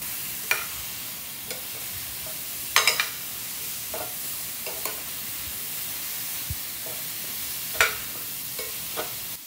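Apple pieces frying in a pan for chia pudding, a soft continuous sizzle with scattered sharp clicks of a utensil stirring and tapping the pan, fairly quiet and without speech.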